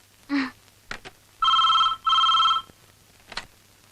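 A telephone rings in two long electronic bursts with a few shorter clicks and tones around them, clear and close in a quiet room.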